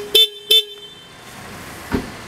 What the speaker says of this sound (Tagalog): ito yung pinaka stock na busina niya